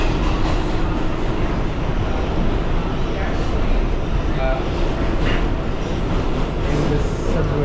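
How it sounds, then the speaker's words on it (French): A New York City subway train rumbles loudly and steadily on the line 1, a continuous dense clatter of wheels and cars with faint voices mixed in. "Le subway."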